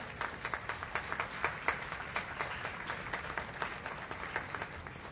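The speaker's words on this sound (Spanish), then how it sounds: "Dale un aplauso a Dios." A church congregation claps in steady applause during a sermon, many hands patting in a continuous, moderately distant wash with individual claps popping out, no speech over it.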